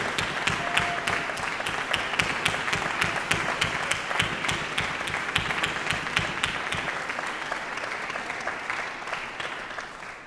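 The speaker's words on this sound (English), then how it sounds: "Big round of applause." Audience applause fills a conservatory commencement ceremony, a dense, steady wash of many hands clapping for about ten seconds at full strength before easing slightly toward the end, with no talk over it.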